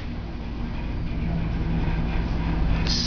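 A scenic traction elevator at the Oakes Hotel in Niagara Falls travels at about 400 to 500 feet per minute with a smooth, continuous low rumble and airy rush that build slightly as it moves, with no talk.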